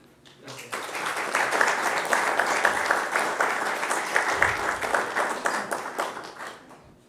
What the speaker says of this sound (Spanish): Yo quisiera dar un aplauso, por favor, para Pepe Pepe.